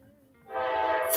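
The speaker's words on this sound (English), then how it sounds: "Excuse the train." A train rumbles close by, its loud horn blaring in a sustained blast that rises and then sharpens at the end.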